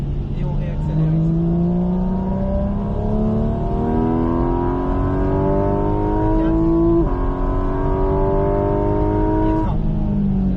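A car accelerates hard around a race circuit at Bresse, engine pitch climbing in steady rising sweeps, dropping at a gear change and rising again, loud and close from inside the cockpit while a driving instructor talks over it.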